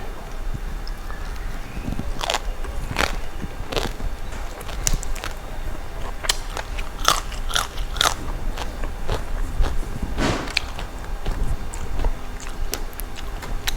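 Someone eating homemade som tam, a pounded green papaya salad. Close, loud crunching bites and chewing crackle repeat irregularly over a constant background hiss.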